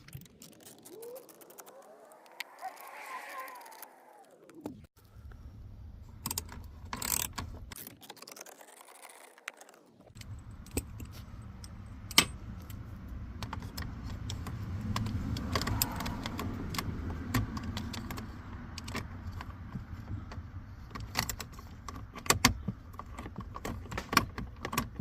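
Screws being removed from the fuse panel of a Ford F150. Repeated ratcheting clicks and small metallic mechanism noises come from close by, with occasional faint rattles and no talking.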